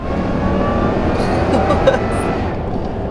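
A supercharged 560 horsepower Toyota Tundra pickup's engine roars loud and close in a steady, sustained rev with a faint higher whine riding on top.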